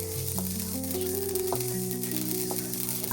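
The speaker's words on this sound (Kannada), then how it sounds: "ಒಗ್ಗರಣೆಗೆ ಹಾಕಿದ್ರು ಅಷ್ಟೇ ಚಟಾಪಟ" Mustard seeds and lentils crackle in hot oil as a tempering for hotel-style sambar powder, a faint continuous sizzle with occasional pops, mostly beneath louder background music.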